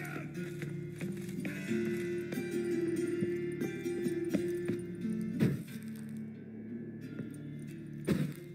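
Hooves of a galloping horse in The Witcher 3 pound in a steady rhythm under an ambient game soundscape, with a couple of louder thuds and cracks standing out near the end.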